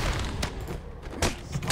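Sniper gunfire in the video game Batman: Arkham Asylum comes as two sharp, loud cracks about a second apart, set against a low, busy game soundscape.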